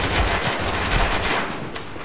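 Gunfire in a GoldenEye shooter game, loud continuous rapid shots close up, easing slightly near the end.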